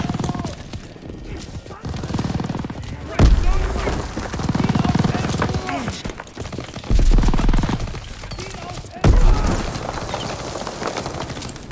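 Grenade blasts and gunfire ring out in a World War II D-Day battle in Call of Duty WW2, with several sharp, heavy bursts spaced a few seconds apart over continuous battlefield noise and someone talking throughout.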